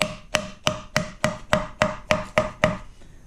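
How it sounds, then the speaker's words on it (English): A rubber mallet taps a ready-to-assemble kitchen cabinet drawer front into place: nine or ten sharp, evenly spaced knocks, close and clear, then a brief quiet. "I'm going to take a rubber mallet and just hammer it in carefully"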